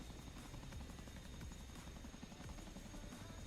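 A Chinook helicopter flies overhead beside railway lines, giving a distant, low rotor throb with a rapid pulsing beat that holds steady and faint.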